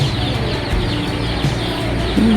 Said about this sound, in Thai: ไก่ไก่กุ๊กกุ๊ก